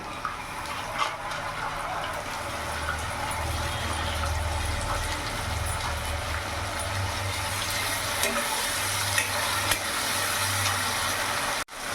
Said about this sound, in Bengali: পেঁয়াজটা ভাজা ভাজা হয়ে গেছে, দেখতে পাচ্ছ বাদামি রং হয়ে এসছে।